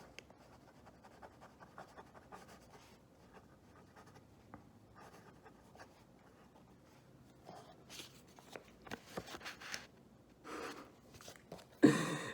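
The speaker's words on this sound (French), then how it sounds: "Et là, je peux écrire une petite lettre" A fountain pen fitted with a piston cartridge writes a short letter on paper with faint, close scratching strokes, followed near the end by a few louder handling knocks.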